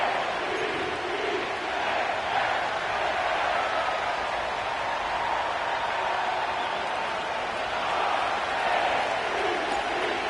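Stadium crowd noise from an EA Sports NFL football video game set at M&T Bank Stadium in Baltimore, a steady, dense roar of many voices held evenly throughout with no breaks.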